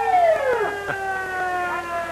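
A 1988 Durham police car's siren wails at a Santa Claus parade, a loud falling and rising tone that holds steady across the whole stretch with crowd noise underneath.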